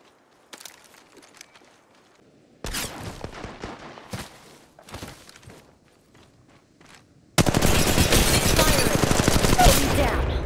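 Gunfire in Apex Legends crackles in short, sharp bursts separated by quiet gaps, then erupts into a loud, sustained stream of rapid automatic fire near the end.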